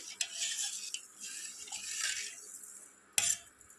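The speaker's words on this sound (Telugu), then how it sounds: "మనం ఈ పంచదారని కలుసుకోవాలి" A spoon stirs sugar into boiling milk in a pot for bread rasmalai, a steady scraping swish under a soft bubbling hiss, with a brief clink of metal near the end.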